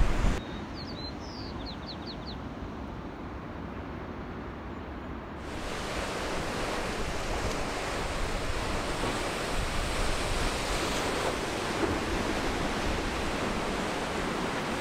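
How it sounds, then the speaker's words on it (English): Ocean waves surging and crashing at Devil's Churn on the Oregon coast, a continuous roaring wash of surf that swells louder partway through, with a few bird chirps early on. "watched the dramatic show of waves put on by the ocean and the coast of Oregon"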